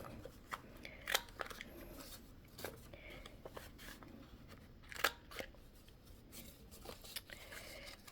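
Scissors snipping the corners of a printed paper zine booklet, a few crisp separate snips and light paper rustling, close and quiet, with no talking.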